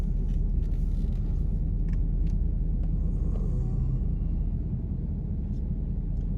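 A car drives slowly around a small loop road at the historic Grinder house site, its engine and tire rumble steady, low and continuous without any talking.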